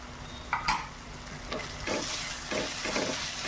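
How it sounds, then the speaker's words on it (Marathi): Tomato and turmeric sauté in a hot pan, giving a close, continuous sizzle broken by a few scraping stirs of a spoon. "त्यानंतर याच्यामध्ये आपण टोमॅटो पण टाकून घेऊया आणि तो पण परतून घेऊया."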